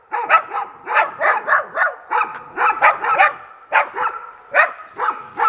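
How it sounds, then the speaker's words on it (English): Two aggressive dogs bark repeatedly at close range on a road, sharp loud yaps coming in rapid irregular bursts with brief gaps between volleys. "these are the two meanest dogs I've come across today"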